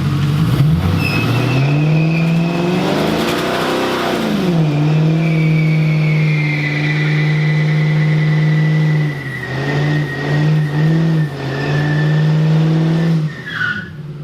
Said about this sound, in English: definitely have to test for a little burnout, right?